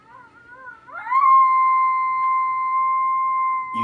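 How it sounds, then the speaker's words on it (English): Long electronic coyote-style howl played from a Lucky Duck Roughneck predator call speaker, rising into a loud steady wavering tone that holds for several seconds with no talking over it. "Long howls."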